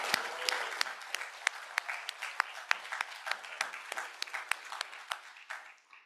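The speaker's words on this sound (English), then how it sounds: "let's all give them a round of applause" An audience at a graduation ceremony breaks into sustained applause, with dense clapping and a few sharp individual claps standing out, steady throughout before tapering off near the end.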